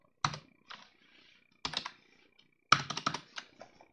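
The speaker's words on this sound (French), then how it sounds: "Ouais, mon clavier fonctionne." A computer keyboard is tapped in three quick clusters of sharp keystrokes, close and fairly quiet, with near silence in the gaps.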